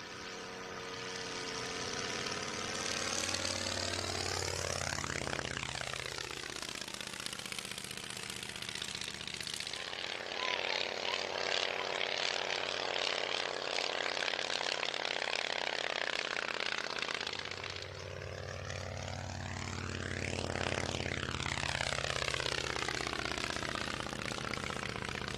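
Miles propeller aircraft engine at an airshow, a loud droning roar that rises and falls as the plane makes two close passes, with strong Doppler pitch sweeps as it approaches and recedes.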